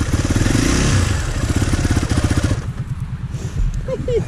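A Yamaha motocross motorcycle pulls away at a dirt bike park in Emsland, its engine chugging and revving close by with clattering and scraping, and voices talking over it.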